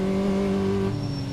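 A car braking in Car Mechanic Simulator 2014, a steady engine tone dropping in pitch as it slows, with a faint squeal toward the end.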